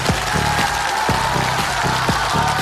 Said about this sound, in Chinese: 咱们热烈掌声，有请第一位分享者上台